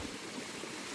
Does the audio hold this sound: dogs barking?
no